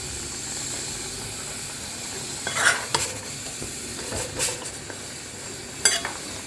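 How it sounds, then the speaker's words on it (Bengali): Masala sautés in a pan, a steady close sizzle and hiss broken by several louder scrapes and knocks of a spoon stirring, with no one talking. "মশলাটাকে একটু টাইম নিয়ে কষাতে হবে"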